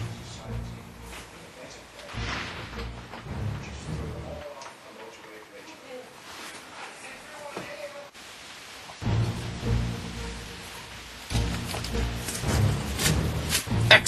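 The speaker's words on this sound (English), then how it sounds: "on this night that we choose to teach you how to properly climb a tree, just so happens that it is pouring" Pouring rain falls at night on a slick tree outdoors, a steady broadband hiss with patters and ticks, briefly dropping away mid-scene before returning louder, with no speech over it.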